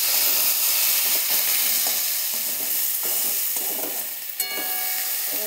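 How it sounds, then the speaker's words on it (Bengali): Ginger and garlic paste, cumin and turmeric frying in a pan and being stirred, a steady close sizzle with intermittent scraping stir strokes and a brief clink near the end, no talking. "হলুদ দেওয়ার পর এবার একটু নেড়ে নেব"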